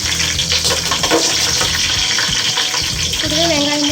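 Green chillies hit hot oil already crackling with whole spices for a chicken dum biryani, setting off a loud, steady, close sizzle and hiss, with a voice briefly joining near the end.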